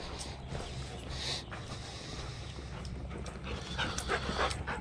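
A dog pants steadily up close while walking outdoors in the desert, with faint rustling and footsteps in the background.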